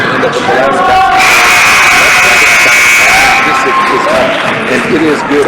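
A loud, sustained buzzer tone sounds for about two seconds over a roaring, cheering crowd at a girls high school basketball game, Frontier Academy at Brush, with yelling continuing after it stops.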